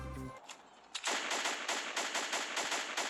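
Rapid automatic gunfire in the video game Fortnite, a loud sustained burst of evenly spaced shots that follows a short tonal game sound, with no talk over it.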